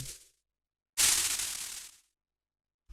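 Noise percussion from a dark techno production, auto-panned for random volume movement: a short bright noise burst tails off, then after a gap a louder, dense hiss of about a second fades out, followed by silence and another hit starting.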